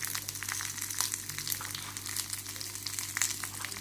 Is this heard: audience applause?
no